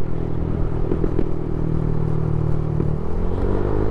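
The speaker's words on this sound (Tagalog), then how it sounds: "ito yung tunog ng power pipe na CRP." A motorcycle fitted with a CRP power pipe aftermarket exhaust idles loud and steady with a deep, throaty exhaust rumble and a few sharp clattering backfire pops, running close by with no talk.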